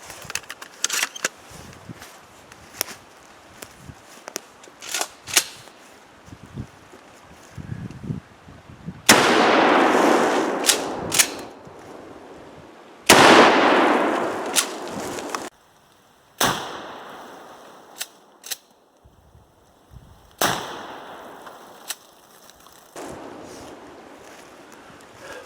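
A 12 gauge shotgun loaded with T shot birdshot fires outdoors, loud sharp blasts spaced out with echoing tails, among quieter clicks and handling noises.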